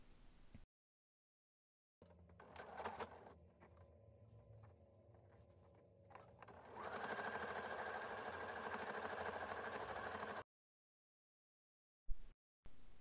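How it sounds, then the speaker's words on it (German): Sewing machine stitching closed the turning opening along the edge of a fabric bag, a faint motor whir in short bursts and then a steadier run, broken by sudden silent gaps. "Nun nähe ich also knapp an der Kante die Wendeöffnung zu."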